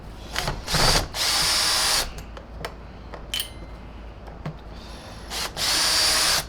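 Bursts of a power drill or driver whine as screws come out of a Numatic James JVP180 vacuum being opened up, several short runs separated by quiet pauses and small clicks.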